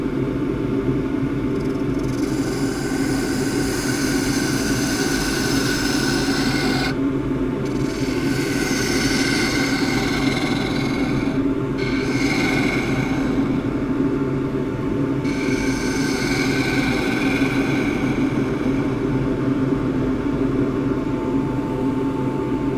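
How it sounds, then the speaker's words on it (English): A spindle gouge cuts a xanthorrhoea root spinning on a wood lathe, a continuous loud rumbling hum with a rasping scrape of the tool, shifting in pitch as the cut moves and pausing briefly a few times. "So working with the 3/8 spindle gouge."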